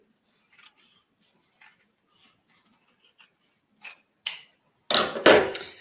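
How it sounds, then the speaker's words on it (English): Scissors snip through fabric to remove pocket pieces from a sewn bag, with a few light cuts followed by louder, closer snips near the end. "Okay, so I'm just going to cut this off."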